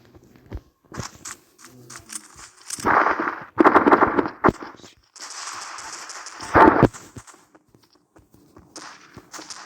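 Pistol gunfire in the mobile shooter Special Forces Group 2: sharp, close shots fired singly and in quick clusters, with brief louder bursts between quieter pauses and no talking.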